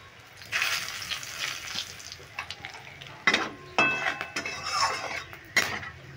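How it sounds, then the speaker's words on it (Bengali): Whole spices sizzle in hot oil: panch phoron, cinnamon, cardamom, bay leaf and split dried red chilli, with a steady frying hiss broken by a few metal stirring clinks and scrapes close by, no talking. "ফোড়নটা ভালো করে ভেজে নিলাম"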